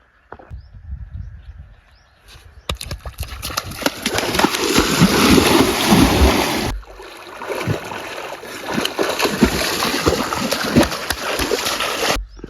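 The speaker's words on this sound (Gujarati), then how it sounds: "રાજલો પાણીમાં કૂદી ગયો" Someone jumps into a river with a loud splash, followed by a long stretch of churning, rushing water noise that dips briefly and then resumes.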